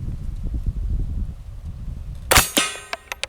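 A single sharp crack from a Ruger 10/22 LVT rifle firing CCI standard velocity ammunition, followed by a few short metallic clicks and clatters, after low rumbling background noise.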